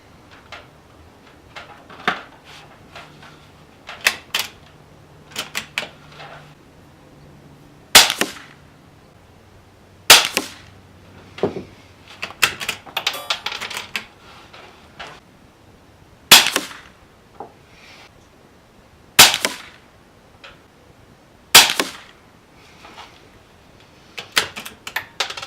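Winchester CB Long subsonic .22 rounds fired one at a time, about eight sharp, fairly quiet cracks spaced several seconds apart, with faint mechanical handling clicks between shots and no talk.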